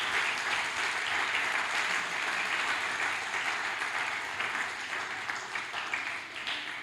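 Church congregation applauding during a sermon, a broad steady roar of many hands clapping that holds for several seconds and softens slightly near the end.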